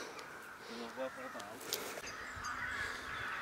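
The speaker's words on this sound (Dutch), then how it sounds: "Moet je die kraaien even horen," Crows cawing in trees beside a canal at a carp-fishing spot, faint and distant, with a few harsh calls partly masked by nearby people talking.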